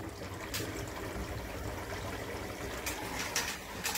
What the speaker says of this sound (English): Water comes up over the weir.